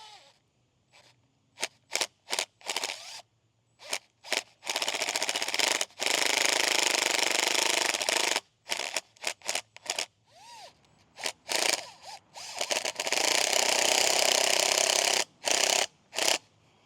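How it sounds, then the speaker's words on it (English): A Milwaukee power tool fitted with a 5/16-inch bit drives a fastener on an aluminum pressure washer surface cleaner, its motor whirring in repeated short bursts and a few longer runs, close and loud. "so I got my Milwaukee here with a 5/16" bit"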